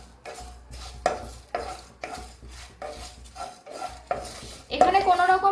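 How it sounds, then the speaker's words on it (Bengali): Four whole dried red chillies and panch phoron five-spice dry roasted in an oil-free pan for amra pickle, with a steady run of scraping stirs and light rattling, growing busier and louder near the end. "দিয়ে আমি শুকনো খোলায় এটা কিছুক্ষণ ভেজে নেব।"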